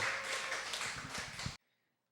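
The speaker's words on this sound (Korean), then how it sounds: "큰 박수로 환영하며 맞이하겠습니다" A church congregation gives a brief round of applause welcoming two readers for a New Testament reading, dense clapping that cuts off abruptly into near silence after about a second and a half.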